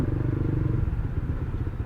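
A clutch-equipped motorcycle idles and pulses in stop-and-go traffic, its engine thumping in a close, steady low rhythm throughout the short moment.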